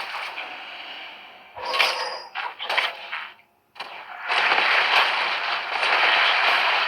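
Explosions in the video game Warhammer 40k Tacticus burst out in quick succession, crackling blasts over a busy game soundscape that cuts out briefly before a louder, sustained rush of noise.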